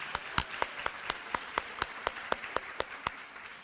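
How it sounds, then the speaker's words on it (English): Clapping at an in-person awards luncheon honoring teachers, heard as a sparse, evenly spaced series of individual sharp claps, quiet and close, with little crowd fill. "Give yourselves a big round of applause"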